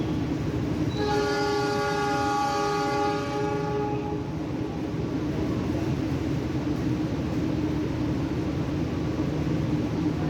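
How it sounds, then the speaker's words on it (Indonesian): The Argo Bromo Anggrek passenger train departs Jakarta Gambir station, its horn sounding a loud sustained blast for about three seconds over the constant rumble of the train and station, which continues steadily afterward. "PPKA telah memberikan semboyan adanya KA Argo Bromo Anggrek diperbolehkan untuk berangkat"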